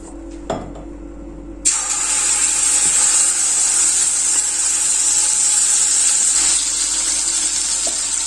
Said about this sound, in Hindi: ऑयल हमारा अच्छे से गर्म हो गया है तब हम इसमें डाल देंगे अपना पिसा हुआ प्याज टमाटर का मसाला